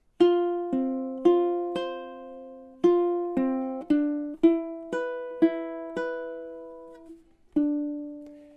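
Measures 3 and 4 of a song played on a ukulele: a slow sequence of about fifteen clear plucked notes and small chords, each ringing and decaying, close and alone without talk.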